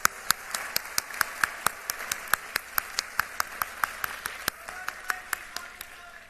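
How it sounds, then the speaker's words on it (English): Graduation commencement audience in a pharmacy school ceremony giving a round of applause, heard as a slow steady series of distinct sharp claps at an even rhythm, fairly close and moderately loud, with no talk. "Could we hear just one more round of applause for you?"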